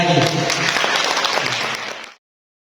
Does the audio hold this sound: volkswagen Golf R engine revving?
no